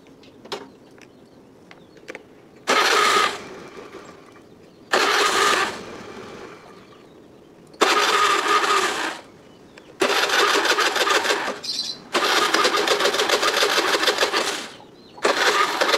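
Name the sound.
motorcycle engine cranking, not starting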